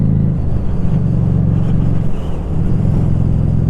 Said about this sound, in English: it sounds like I'm chopping and changing with the gears